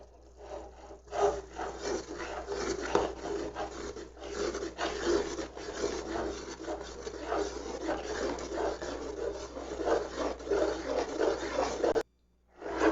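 A spoon scrapes steadily through thick aloe vera halwa made with flour in a pan on low flame, giving a continuous close rasping and rubbing that runs without pause before a brief cutoff near the end.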